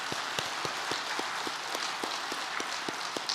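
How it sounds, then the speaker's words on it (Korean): A congregation at a Sunday church service claps in a quick, even rhythm, a steady run of close, crisp claps. "우리 하나님 앞에 영광의 박수를 올려드리겠습니다"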